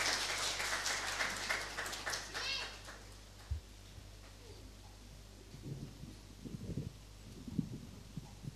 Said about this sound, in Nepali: हामी ताली बजाएर उहाँलाई स्वागत गर्नेछौँ